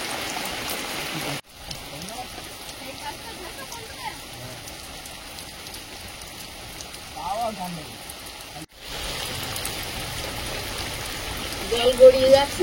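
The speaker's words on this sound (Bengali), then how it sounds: "জল গড়িয়ে যাচ্ছে উঠোন দিয়ে। ভালোই বৃষ্টি হচ্ছে আস্তে আস্তে।" Steady, gentle rain falls straight down with no gusts while runoff trickles across an open village courtyard, a continuous close hiss with a brief break and some louder splashing near the end.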